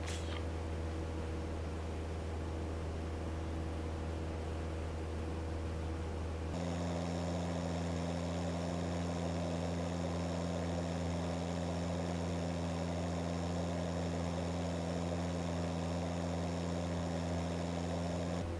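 A Cessna 172 in a flight simulator drones steadily, its engine pitch dropping partway through as the throttle is pulled back in level cruise, a continuous hum with a broadband airy wash and no talking.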